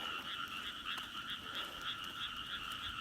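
A chorus of frogs in Japan croaks continuously in a steady, pulsing rhythm, fairly faint and distant, with no voices.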